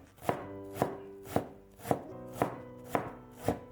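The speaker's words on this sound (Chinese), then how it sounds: "最后切成小丁" A knife dices peeled green radish into small cubes on a cutting board: seven crisp, evenly spaced chops land close and clear, with no voices.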